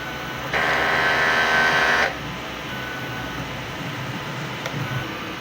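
A sublimation printer running a head clean gives one loud steady mechanical whir for about a second and a half, then stops and leaves quieter room hum with faint clicks.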